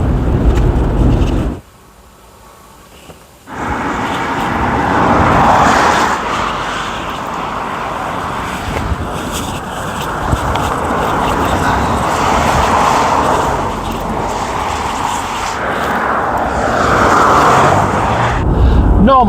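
Toyota Land Cruiser driving on the road during a test drive, with steady engine and road noise heard from inside. There is a brief quiet dip near the start.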